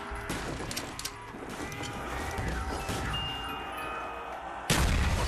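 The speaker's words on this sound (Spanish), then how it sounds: "Por lo menos tengo una escopeta buena." Rapid booming shotgun fire in the zombie video game Call of Duty Shi No Numa, several loud blasts over a dense, rumbling background, with a heavy burst near the end.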